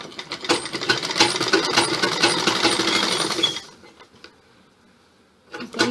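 Sewing machine stitching the seams of an A-line suit, a dense rapid whirring clatter running steadily for about three and a half seconds, then stopping into near silence before a brief restart at the end.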